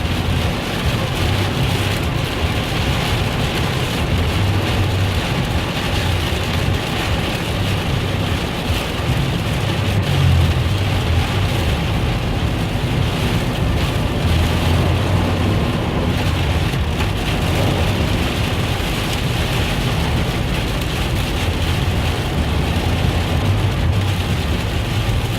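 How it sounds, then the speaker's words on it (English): A heavy summer rainstorm drums hard and continuously on a car driving toward Cody, a loud, dense roar of rain that never lets up, with no voices. "this is actually a pretty normal storm for this time of year"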